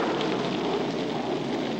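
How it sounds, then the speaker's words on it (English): Cartoon rain pours down in a steady, dense hiss of falling drops, loud and even throughout with no pauses. "Rain!"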